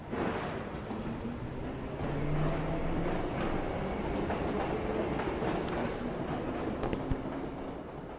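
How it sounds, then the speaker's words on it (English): In Assassin's Creed 3, a train rumbles and rattles on its rails in a steady, dense roar, with faint clanks and a thin metallic squeal, and no one speaking. "I guess the train gonna move or..."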